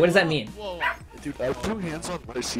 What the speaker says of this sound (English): what's happened is now is the other dog's barking